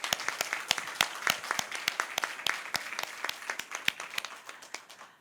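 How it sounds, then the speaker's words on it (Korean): A church congregation clapping together, steady dense applause with sharp individual claps standing out, sustained for several seconds. "우리 하나님께 영광의 박수를 한번 올려드리겠습니다"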